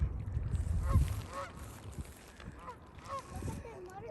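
Geese being fed behind a house honk in short, scattered calls amid splashy background noise, with people talking nearby.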